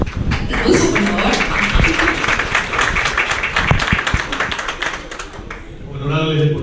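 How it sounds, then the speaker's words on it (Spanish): Audience applause at a press conference welcoming Ecuadorian athletes who won medals at the Paris 2024 Olympics, a burst of close, scattered clapping that fades before a voice begins to speak. "Aplauso, por favor."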